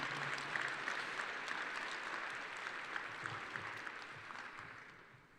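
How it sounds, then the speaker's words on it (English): A graduation audience at King Tech High School applauds family members and friends, a broad, even wash of clapping from a large crowd that sustains and then slowly fades toward the end. "Let's clap for your family members."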